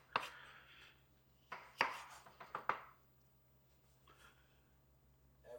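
A knife chops a red pepper on a kitchen board, with a burst of quick chops, then several sharp separate cuts and a last soft chop, close by with no talk.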